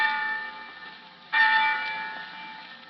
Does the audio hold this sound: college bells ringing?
yes